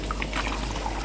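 Pond water being poured into a container holding hot water: a short, steady splashing pour, close and fairly loud, with no voices.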